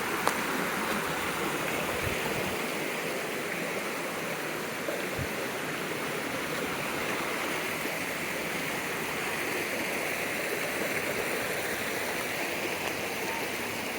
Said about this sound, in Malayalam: ഇവിടെ ഇവിടെ വെള്ളച്ചാട്ടം ഉണ്ടാകുന്നല്ലോ